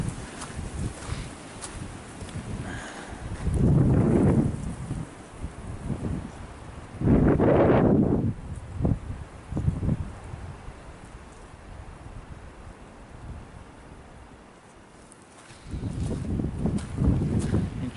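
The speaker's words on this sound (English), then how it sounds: "True to fashion, another front moving in, so it's windy and cloudy again." Wind blows through a forest trail in Winona State Forest in gusty, roaring surges that swell loudly and fade between them, with a strong rumble on the microphone and no talking.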